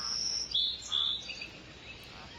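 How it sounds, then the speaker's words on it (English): Bright bird chirps and tweets ring out in the fishing video game Professional Fishing 2, a few short calls over a soft outdoor ambience with no talking. "all the birds in the sky"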